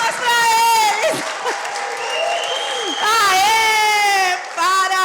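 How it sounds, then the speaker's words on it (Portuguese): Audience applause for a family at a Baptist church family Sunday service, loud clapping with cheering voices and an excited speaker talking over it throughout. "Vamos, gente, dar uma salva de palmas para eles!"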